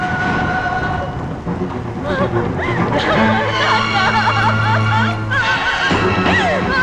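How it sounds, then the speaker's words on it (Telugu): Steady rain with rumbling thunder in a film scene, a dense wash of noise heard loud and close throughout, layered under music with wavering melodic tones. "వర్షం పడుతుంది"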